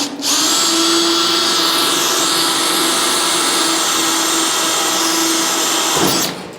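A power drill fitted with cheap bits boring into steel, working on a Honda Type R mini supercar project: a loud, continuous high whine held steadily for about six seconds before cutting off abruptly.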